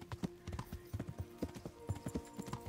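A horse's hooves clip-clop in a steady galloping rhythm while riding in the video game Kingdom Come: Deliverance, close and clear with no talking over them.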